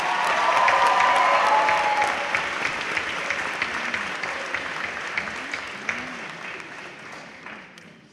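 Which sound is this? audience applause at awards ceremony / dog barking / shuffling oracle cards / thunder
audience applause at awards ceremony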